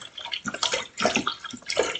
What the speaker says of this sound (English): So I'm going to pour this in over my cooked celery and carrots